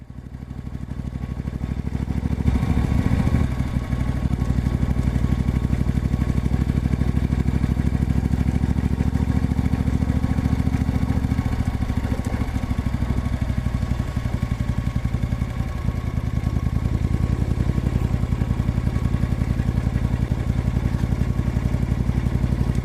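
Steady, loud engine drone of a 1972 Moto Guzzi Eldorado motorcycle being ridden along a rough, rutted country road, a continuous close rumble with faint clatter and wind throughout, no talking.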